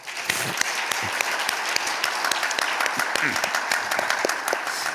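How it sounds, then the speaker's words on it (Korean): A church congregation applauds during a Wednesday worship service, a dense, even patter of many hands clapping at a steady level from start to finish. "우리 다시 한번 우리 암송 식구들에게 박수 한번 하십시다."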